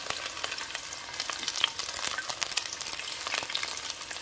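Onion frying in a pan for a stewed snail dish, a close, crackling sizzle with quick scrapes and taps of stirring throughout, no talking.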